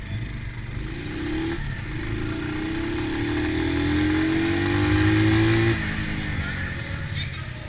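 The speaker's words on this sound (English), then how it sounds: "Let me do some high speed plus braking." A 2020 Bristol BR 250 motorcycle accelerates hard through rising gears, its engine note climbing in two long sweeps before cutting off abruptly as it brakes, heard from on the bike over wind noise.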